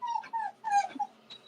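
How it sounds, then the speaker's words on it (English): A pet dog whimpers and yips in a series of short, high, wavering cries, close by and fairly quiet, with brief pauses between them. "my dog's freaking out."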